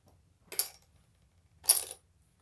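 Small shells set back down on a hard surface in a counting game, making two light, brief clicks about a second apart in a quiet room.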